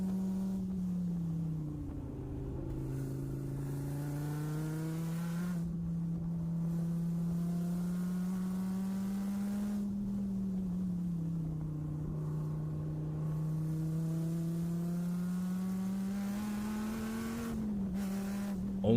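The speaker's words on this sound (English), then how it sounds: "the V10 combines the V12's sophisticated noise and the V8 gutturalness into one sound that just sounds amazing" The V10 engine of a 2013–2017 Dodge SRT Viper drones steadily and loudly in a continuous run, its pitch swelling and dipping in slow waves as it revs up and eases back, with no talking.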